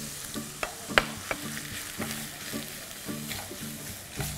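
Shredded cabbage and carrots stir-fried with ginger and garlic for an Indo-Chinese Schezwan filling, with steady close sizzling and repeated sharp scraping strokes of a spatula against the pan.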